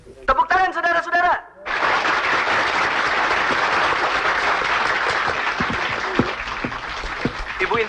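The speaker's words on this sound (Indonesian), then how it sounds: "Tepuk tangan saudara-saudara." Audience applause breaks out at a 1979 Indonesian stage show featuring Elvi Sukaesih, a dense, loud wash of clapping that holds steady for several seconds right after a short burst of a voice.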